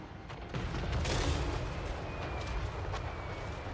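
Mortars and great cannons fire together in a Warhammer 3 battle, heard as a dense, continuous rumble of distant booms with no distinct individual shots, fairly faint overall.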